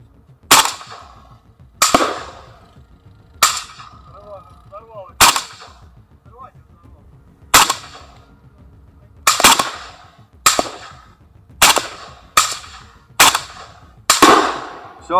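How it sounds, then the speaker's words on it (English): Light weapons are fired remotely at a PTM-3 mine, about ten sharp single shots spaced unevenly over roughly fifteen seconds. Each crack is loud and clear, with a short decay and quiet in between. "The federal commander's crew destroyed the mine by remotely firing light weapons at it."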